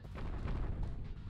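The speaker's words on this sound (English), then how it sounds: "Avoiding bad explosion things." Explosions in the video game Rogue Rising, a quick burst of muffled low booms blending into one another, moderately faint and without talk over them.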